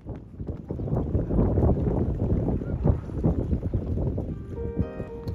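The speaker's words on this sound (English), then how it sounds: "So as you can hear, the wind's up." Strong wind buffets the microphone aboard a racing sailing pilot cutter at St Mawes, a continuous low rumbling roar with gusty surges throughout.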